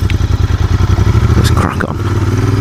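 A Royal Enfield Continental GT or Interceptor 650 twin-cylinder engine and exhaust thump loudly and close in a fast, steady pulsing idle that blips briefly midway, with someone speaking briefly over it.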